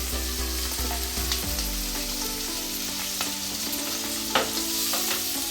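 Ingredients sautéing in a pan for Kongunadu chicken chintamani, a steady close sizzle with intermittent scraping stir strokes and spatula clicks, no voices.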